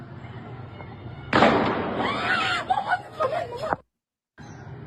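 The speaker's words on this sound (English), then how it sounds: "then you hear a gunshot, and you hear him fall" A gunshot during a street protest in Iran cracks out as one sharp loud burst, followed by a few seconds of commotion and scattered voices, then a brief silence before background noise returns.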